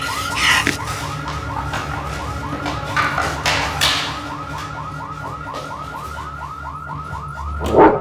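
A home security system alarm wails in a steady, repeating electronic warble that rises and falls in quick cycles, loud and continuous throughout, with no talking.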